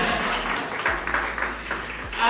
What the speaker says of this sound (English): So please, can you give me a round of applause?